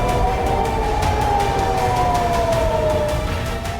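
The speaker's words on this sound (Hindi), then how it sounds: "लगातार सायरन बज रहे हैं" An air raid siren wails in Tel Aviv after an Iranian attack, a loud sustained tone slowly falling in pitch over broad street noise.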